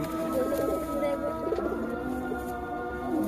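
Pigeons coo softly inside a loft in the evening, several low throaty calls overlapping in a faint, steady murmur with a little background hum.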